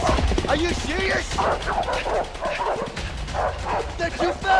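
Dogs bark and yip in a chase in the video game A Way Out, repeated close, excited barks and whimpers mixed with loud shouting voices and a busy game soundscape.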